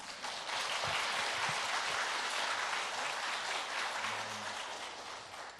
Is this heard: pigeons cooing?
no